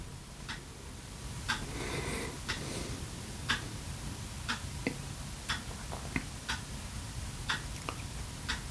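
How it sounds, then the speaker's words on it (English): Steady clock ticking, sharp regular clicks about once a second, close and fairly clear over a faint low hum, with no voices. "The clock is ticking."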